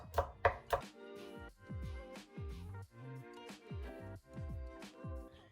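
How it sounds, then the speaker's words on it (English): Knife thinly slicing three garlic cloves on a cutting board for Hong Kong style chow mein: a close series of crisp, evenly spaced taps and thuds of the blade striking the board, with no talking. "3 cloves of garlic, thinly sliced."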